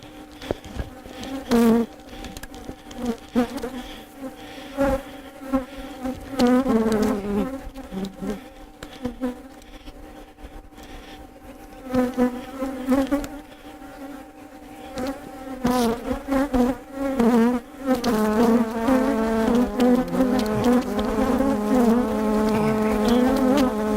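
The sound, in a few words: honey bees buzzing during bee vacuum removal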